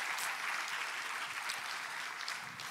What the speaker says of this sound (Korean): 우리 송춘환 우리 위원장님께 다시 한번 큰 박수 부탁드리겠습니다